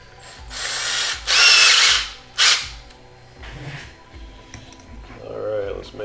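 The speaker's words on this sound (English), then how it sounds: "So we'll drill the hole, we'll tap it" A power drill bores a hole during a Rock 'em Sock 'em Robots hack, with loud bursts of whirring around the first and third seconds, then quieter clicks and short mechanical noises, and a brief voice near the end.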